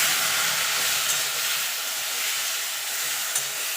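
Tamarind water is poured into a jujube pickle frying in oil, producing a loud, continuous hissing sizzle that holds steady throughout.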